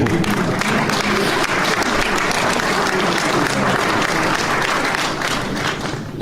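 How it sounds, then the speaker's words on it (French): Loud, sustained applause from the audience at a New Year's greetings ceremony for the town of Garéoult, thick continuous clapping that holds at full level and eases off only near the end. "Bravo, on applaudit maintenant"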